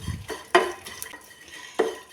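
Dried shrimp being roasted in a pan, with a few sharp metallic clinks and scrapes of a spoon against the pan and a soft rustle between, close and alone.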